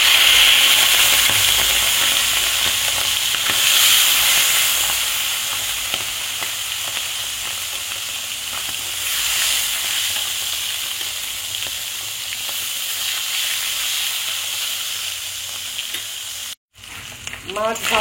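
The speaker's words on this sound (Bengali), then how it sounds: "কড়াইয়ে তেল গরম হয়ে গেছে, এবার মাছগুলোকে এর মধ্যে ছেড়ে দেব। মাছগুলোকে ভালো করে ভেজে নেব।" Tangra fish frying in hot oil in a wok make a steady, close, hissing sizzle that eases slightly midway and continues without talking until a brief cutoff near the end.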